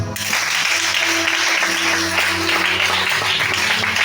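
Congregation at a Sunday church service clapping and applauding, a dense continuous wash of many hands filling the room, loud and steady throughout.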